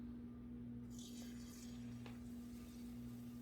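Tempura batter dripping into hot frying oil: a soft, steady sizzle that swells as the batter hits, faint and close over a low background hum, with no talking.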